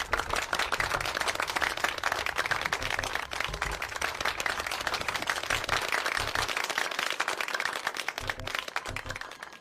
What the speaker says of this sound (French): Je vous invite à applaudir chaudement Philippe.